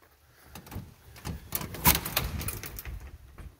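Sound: front door of a house opening

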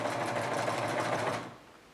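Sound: sewing machine sewing in reverse

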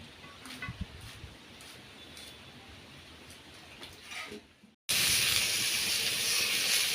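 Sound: water boiling in a pot

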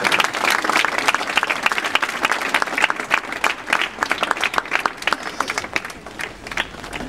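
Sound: applause

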